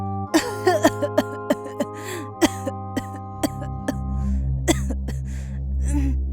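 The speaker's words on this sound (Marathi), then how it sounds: "त्याची आई जोरात खोकलायला लागली" A woman coughs loudly several times in bursts, then clears her throat, over a sustained musical background.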